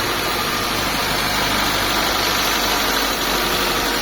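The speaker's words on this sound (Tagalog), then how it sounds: "Yan, mandar na ang makina ni bossing." A Mitsubishi Lancer engine, just fitted as a replacement, idles steadily after its first start, a continuous close rumble that holds even for four seconds with no voices over it.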